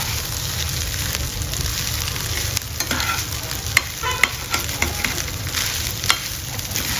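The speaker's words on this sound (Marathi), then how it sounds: "हाय फ्लेमवर थोडं आपण त्याला परतून आहे." Fried rice is tossed and stir-fried over a high flame, with a loud, constant sizzle and sharp spatula clacks against the pan at irregular intervals, close up.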